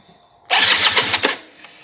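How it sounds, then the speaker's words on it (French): A motorbike engine cranks on its electric starter, a sudden close burst of whirring and sputtering that lasts about a second before fading. "Donc là il y a le démarrage électrique."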